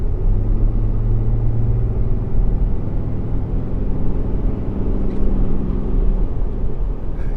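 2018 Ram Limited pickup hauling a loaded car trailer at full throttle, a dense, loud engine roar and road rumble heard from inside the cab, holding steady with the pitch slowly climbing.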